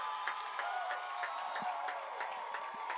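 Stadium crowd at a college football game between Point and Bluefield roars and cheers after a Rams touchdown, a steady wash of voices with scattered claps and whistles, fairly distant and with no talk over it.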